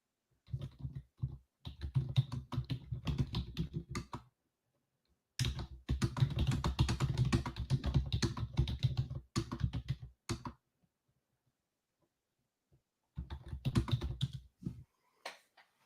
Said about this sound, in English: I'm just typing in the chat real quick.